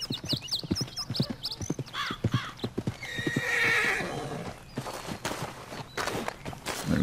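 A horse in the video game Red Dead Redemption 2 whinnies in several rising and falling calls while its hooves clip-clop in an irregular walking rhythm, up close and clear, with a softer snort-like rush of breath midway.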